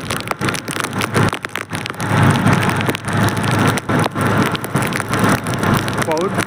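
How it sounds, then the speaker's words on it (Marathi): Heavy monsoon rain pours down in the forest at Karanjphen in Konkan, Maharashtra, a dense continuous broadband hiss with gusty surges, close and loud throughout, with a voice speaking over it. "मस्तपैकी करंजफेनमध्ये आलो आणि पाऊस सुरू झालाय जोरात."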